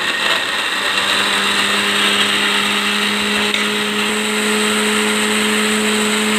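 A mixer grinder blends strawberries with sugar, a loud steady motor whir with a high-pitched tonal hum running continuously throughout.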